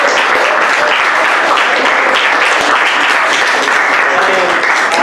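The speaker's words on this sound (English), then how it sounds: "one more round of applause" Audience applause after a talk by a Holocaust survivor, dense steady clapping from a large group filling the room at close range, sustained without a break from start to finish.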